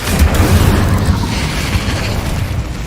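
Incendio fire spell cast in the Hogwarts Legacy video game, a loud, rumbling whoosh of flame with booming bursts that roll on steadily for a few seconds.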